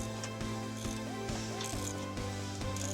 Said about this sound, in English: we will place the springs, washers, and nuts onto the safety chain U-bolts and then tighten